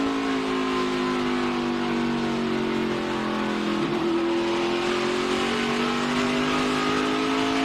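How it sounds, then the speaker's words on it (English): Toyota ARCA race car on the racetrack at Lucas Oil Indianapolis Raceway Park, engine droning loud and steady as the throttle is worked, pitch dipping briefly then climbing again, with no talk over it. "Let's listen to him work that gas."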